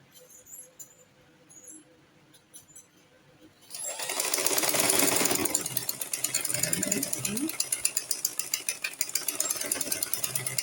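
Sewing machine stitching lace fabric for a gown with a short lining: quiet handling noise first, then the motor starts and runs loud and steady with a fast, even mechanical clatter to the end.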